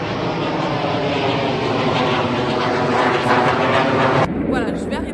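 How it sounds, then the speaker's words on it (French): An airplane passes overhead as a loud, steady broadband roar of engine noise lasting several seconds before cutting off abruptly near the end. "Il y a un avion qui vient de passer."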